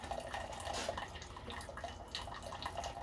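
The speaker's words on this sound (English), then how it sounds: "the water is coming out clear" Water streams out of a Keurig coffee machine during descaling, a thin, continuous trickle and splash into a cup, faint and close with small bubbling fluctuations.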